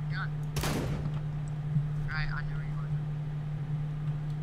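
A single gunshot in the CSGO shooter game, loud and sharp, with a steady hum underneath and faint voice-like bits afterward.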